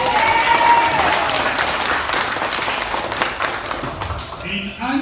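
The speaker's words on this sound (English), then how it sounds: "let us give a good hand of applause for this country" Loud audience applause fills a church conference hall in Baguio, Philippines, steady and broad from start to finish, with a faint tone and a voice emerging as the clapping fades at the end.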